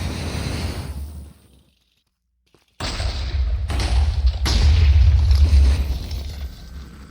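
Missiles fired in the Minecraft modpack MC Eternal 2 burst out as loud booming whooshes, a sustained rumble that drops to silence and then returns with two fresh thumping launches, close and heavy.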